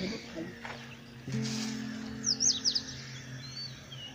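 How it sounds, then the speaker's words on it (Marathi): Sparrows in a Konkan forest give a short burst of faint, high chirps, heard over a steady low hum and quiet background voices. "इथे चिमण्या ओरडतायत बघ मागे."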